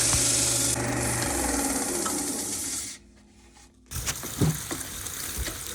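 Sweetgum bowl lid of punky wood being sanded on a spinning lathe, a steady close whirring hiss that drops out for about a second, then resumes with scattered knocks and rattles.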